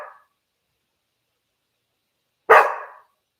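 A dog barks once, loud and close, after a brief faint yelp at the start, with silence between.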